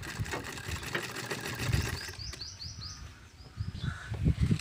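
A sewing machine stitches a baby frock with a steady, rapid mechanical whir and ticking, fairly close. Bird chirps sound faintly in the background and there is no talking.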